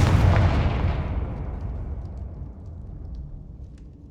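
A Confringo blasting spell explodes in Hogwarts Legacy, a loud deep boom with a rumbling tail that fades slowly over several seconds.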